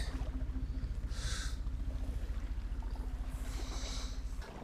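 A boat paddled along a leaf-strewn canal, with soft rhythmic paddle strokes and water movement under a steady low hum, quiet and close, no talking.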